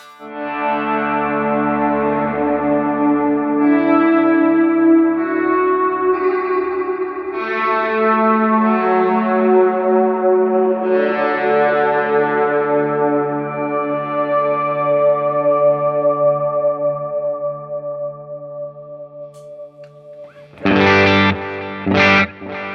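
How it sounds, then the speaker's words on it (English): Sustained guitar pad chords through an HX Stomp Nano with overdrive, washed in chorus and long reverb trails, swelling and slowly fading over about twenty seconds before a brief louder burst at the end. "the pad faded out gracefully and we heard all the trails of the pad"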